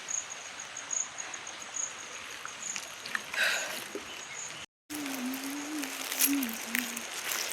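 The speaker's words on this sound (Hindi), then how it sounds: "रास्ता में देखा तो आ दे कितना पानी बहात आते" Floodwater streams along a village road beside farm fields as a steady, close rushing hiss, with faint insect chirps above. A voice briefly sounds in the latter part.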